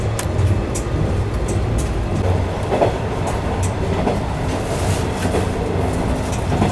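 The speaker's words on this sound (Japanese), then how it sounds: "もう少し伊賀盆地が続き、列車は軽やかに走ります。" A Kansai Main Line train runs through the Iga basin, a steady rolling rumble with rhythmic clickety-clack of wheels over rail joints, close and continuous throughout without any talk.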